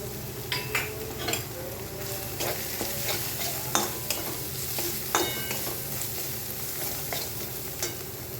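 Soya chunks and pointed gourd fry in a pan as turmeric, coriander, cumin and Kashmiri red chilli powders are stirred in, a constant close sizzle broken by frequent spoon scrapes and clinks against the pan.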